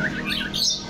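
A bird at Ocean Park Cebu gives quick, high chirps and tweets across a short stretch, fairly close and clear over a low background murmur of the park.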